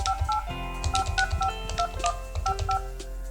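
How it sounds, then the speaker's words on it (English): Keypad dialing tones beep in a quick, steady sequence on a Polycom VVX411 business desk phone, each tone short and clear, with no talking. "I'm going to dial."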